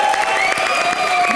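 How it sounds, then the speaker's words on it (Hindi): A comedy show studio audience breaks into loud applause with some cheering, continuous clapping under a sustained musical tone. "अरे हमारे सलमान यूसुफ खान के लिए जोरदार तालियां।"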